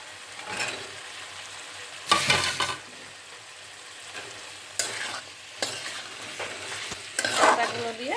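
Mint stems go into a hot pan for a Bengali mint fish curry, giving a steady sizzle of frying with several sharp bursts of stirring and scraping spaced irregularly through the stretch.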